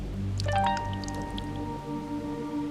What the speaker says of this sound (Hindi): सॉरी पानी गिरता है ना इसलिए लगाया था